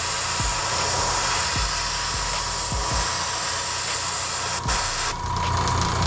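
Steady broadband hiss of an airbrush spraying cleaner continuously, loud and close, with a few low clicks and a brief dip near the end.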